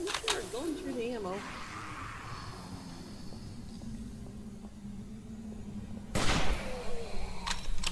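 Gunfire in the video game 7 Days to Die, a few sharp bursts at the start and again near the end over a low game hum, with people talking throughout.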